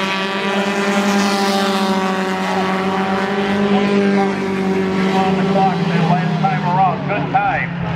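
Four-cylinder race cars roar down the long back straightaway at Spencer Speedway, a loud sustained engine drone with shifting pitch that runs throughout, while a commentator talks over it.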